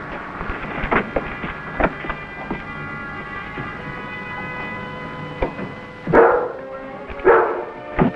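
Rebel, a dog in a 1956 Western TV episode, gives two sharp barks near the end after a stretch of faint scattered knocks and background clatter.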